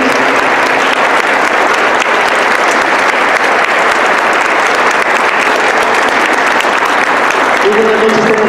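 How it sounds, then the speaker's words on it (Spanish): An audience in the San Silvestre Papa chapel in Aguascalientes welcomes the Esperanza Azteca orchestra and choir with applause before a Christmas concert. The clapping is loud and dense and stays steady throughout, and a faint voice can be heard near the end. "Les damos un aplauso de bienvenida."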